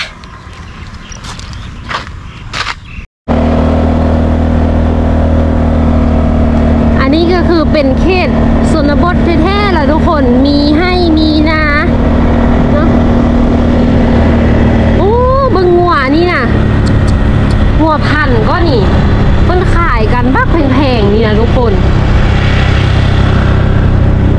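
A vehicle rolls along a rural road in Khon Kaen, its engine and road noise a steady loud drone throughout, with someone talking over it for much of the ride.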